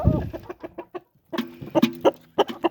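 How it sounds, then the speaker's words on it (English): Chickens, including Easter Egger birds and a red rooster, cluck and squawk close by while being fed, sending out a busy run of short, uneven calls broken by a brief pause. "there's Timothy, that red rooster."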